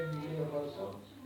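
A soft, brief cat meow, the voice of the cat-mage Nana in the Mobile Legends video game, voiced by a person imitating the sound and heard quietly within a moment of speech.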